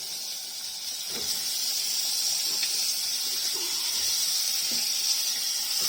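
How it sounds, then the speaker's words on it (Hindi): Chicken pieces frying in homemade masala for a qorma, giving a steady close hiss and sizzle with a few faint clinks, heard alone without talk. "इसको हम थोड़ी देर भूनेंगे। भूनने के बाद इसमें हम डालेंगे चिकन। ठीक है, चिकन के साथ भी भूनना है काफ़ी देर"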